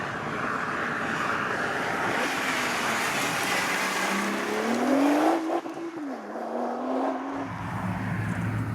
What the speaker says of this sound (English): I'm in the Nissan GT-R and I'm driving this road pretty much as quickly as I think is sensible given the conditions